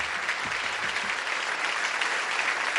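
Audience at a bicentennial poetry ceremony and national award presentation applauding for visiting ambassadors, a dense, even wash of clapping that holds steady throughout, close and fairly loud.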